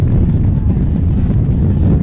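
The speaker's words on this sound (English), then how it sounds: "A little windy tonight." Wind buffets a microphone outdoors at a night high school football game, a loud, constant low rumble with no pauses.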